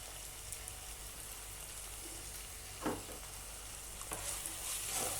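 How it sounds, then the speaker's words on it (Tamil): Capsicum sautéing in a pan for capsicum rice gives a steady, close hiss of sizzling, broken by a few sharp stirring clatters near the middle and toward the end, with no talk. "குடமிளகாய் கொஞ்சம் வதங்கிடுச்சு."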